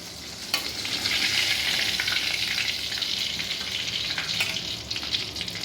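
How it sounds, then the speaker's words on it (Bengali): Fish heads fry in hot oil, a steady close sizzle and crackle with occasional sharp spits and pops, running continuously without any voices. "মাছের মাথাগুলো ভাজা হয়ে গেছে"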